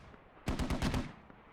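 Video game .50 cal vehicle machine gun firing a short burst of about six rapid shots, distant and fairly faint after a quiet start.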